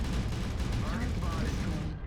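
A mech's machine gun fires in a video game as a dense, loud, continuous barrage of rapid shots for about two seconds, with a voice briefly heard over it.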